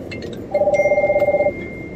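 A telephone rings in a single electronic burst of about one second, a rapid warbling tone that is fairly loud over a quiet background, followed by a short pause.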